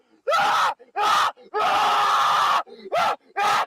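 Loud, hoarse screams come from a played video in repeated long bursts with short gaps, one extended yell in the middle, close and harsh.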